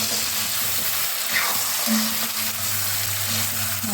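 Meat with potatoes and tomato frying in a pan gives a loud, steady close sizzle that runs unbroken, with a faint low hum beneath it and no talking.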